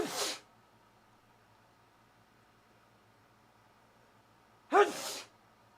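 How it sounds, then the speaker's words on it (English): Two sneezes from a person on a livestream, one at the very start and a sharper, louder one near the end, separated by several seconds of quiet room tone. "I've sneezed like fucking 20 times on the stream already"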